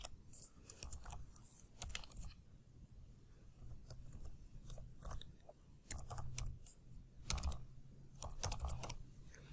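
Steady, irregular typing on a computer keyboard during an online airline ticket booking, with soft clustered keystroke clicks and short pauses, close and fairly quiet, with no voice.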